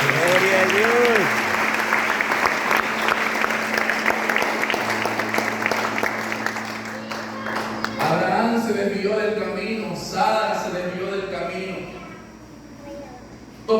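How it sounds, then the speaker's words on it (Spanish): A church congregation applauds in a loud, sustained wash of clapping that fills the first half, then gives way to voices and speech with the clapping thinning out. "Ese aplauso para el Señor va a ser más fuerte que el Señor."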